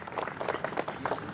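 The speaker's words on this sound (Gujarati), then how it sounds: "એને જોરદાર તાળીઓથી વધાવશે" An audience at a welcome gathering claps to greet a guest, a fairly soft, uneven patter of many hands with slight swells, heard at a moderate distance.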